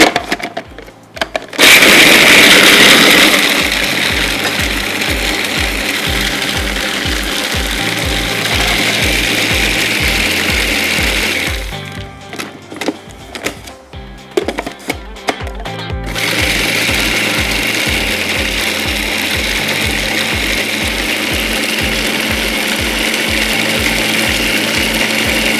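An electric mixer beating cake batter runs steadily and loudly up close with a fast rhythmic whir, briefly dropping in tone and then resuming at full speed.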